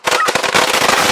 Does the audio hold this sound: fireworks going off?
yes